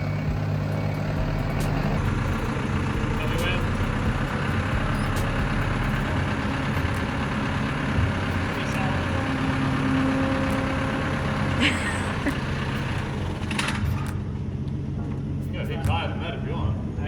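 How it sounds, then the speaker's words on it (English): Steady low engine drone, likely the forklift used to lift a person for a photo in a Japanese car yard, runs continuously and fairly loud throughout, with occasional higher clanks and faint background noise. "put me up on this forklift and try and snap a good one for you guys"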